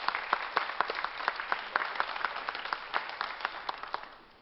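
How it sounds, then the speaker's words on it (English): An audience claps warmly for an award winner at the Santa Fe Indian Market Best of Show ceremony, a dense steady patter of many hands that holds a constant level and fades slightly toward the end. "Let's give him a big round of applause"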